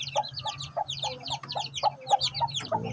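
Aseel chickens and their chicks cluck and cheep in a farmyard, a busy overlapping chorus of short clucks and high peeps at close range, with a low hum underneath.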